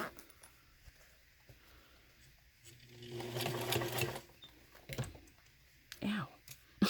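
A sewing machine is hand-cranked slowly to finish stitching a zipper pocket, giving a soft burst of mechanical clicking and whirring in a quiet room, followed by a few small taps and handling noises.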